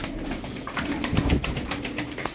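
Arab tumbler pigeons coo and flutter, with soft rapid wingbeat clatter and a low coo, close and fairly quiet over faint outdoor background.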